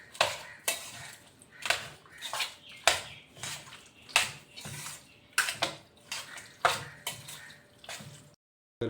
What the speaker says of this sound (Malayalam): സ്പൂൺ എടുത്ത് എല്ലാം ഇളക്കി പിടിപ്പിക്കും.